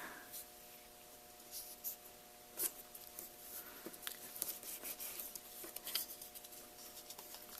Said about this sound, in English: I'm going to use my bone folder here, fold these back.